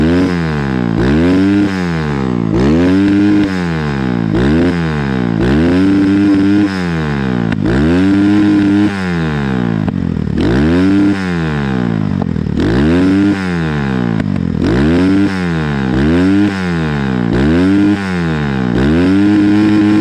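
Honda CRZ 250 motorcycle fitted with an Akrapovic-style exhaust silencer, revving up and dropping off again in repeated blips, loud and close, with no one talking.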